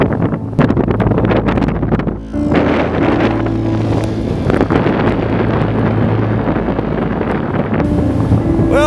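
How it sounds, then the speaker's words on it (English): Blizzard wind blowing hard across a snowbound, unplowed street, a loud continuous roar buffeting the microphone in heavy gusts, with a low hum running beneath and no talk. "Windy out here."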